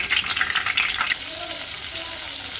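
Stuffed brinjals fry in hot oil in a pan, giving a soft, continuous sizzle and crackle heard close up, with no talking.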